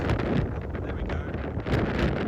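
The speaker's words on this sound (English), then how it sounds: "Now it is crazy windy today." Strong gusts of wind buffeting the microphone outdoors around a house, a steady low roaring rumble throughout with no speech.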